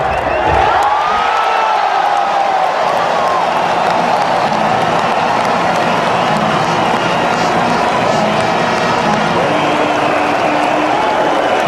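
Loud, sustained roar of a cricket stadium crowd in Hamilton cheering during a McCullum innings against Australia, dense applause and whoops filling the whole stretch, with a commentator talking over it.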